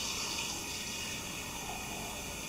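Water pours steadily into a mixing pan for biscuit dough, a continuous close splashing hiss that stays even for a couple of seconds with no talking.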